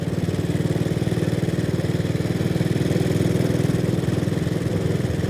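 Vincent Model P single-cylinder motorcycle engine running steadily at close range, a continuous low, throbbing thump with an even pulsing rhythm and no voices.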